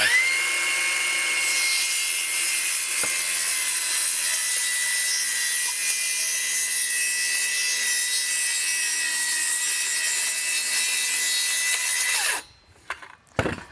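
A table saw fitted with a regular framing blade cuts through wood, and a loud, steady high whine holds for about twelve seconds before the blade winds down with scattered clatter.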